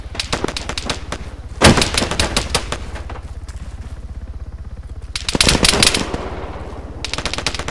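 Automatic rifle fire in the military shooter Arma 3 rattles in long rapid bursts, with louder close volleys standing out against a steady background of distant firing.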